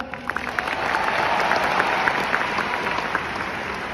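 Audience applause fills a presentation hall at a sales success event, a dense, steady wash of clapping that holds loud throughout, with scattered sharper individual claps standing out.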